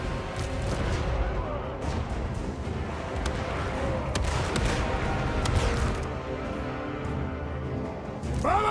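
Battle in the strategy game Total War: Warhammer 3, with dwarf cannon and gunfire booming and crackling in a dense, continuous barrage of shots, loud and close, mixed with shouted voices.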